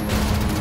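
Dense gunfire in the video game Fuse fills a brief burst, loud and continuous with overlapping shots and mechanical clatter, with no voices over it.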